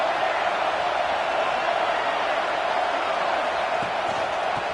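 Stadium crowd cheering in EA Sports College Football 26, a dense, steady roar of many voices that stays loud and even throughout, with no distinct commentary over it.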